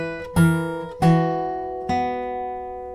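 A short hybrid-picked guitar lick from Alanis Morissette's "Ironic", with three plucked attacks whose notes ring on and slowly fade, played alone and close.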